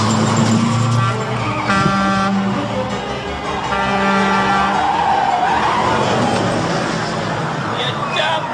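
A car brakes hard with long tonal tyre squeals, two drawn-out skids close and loud, with someone talking over them at a comedy show.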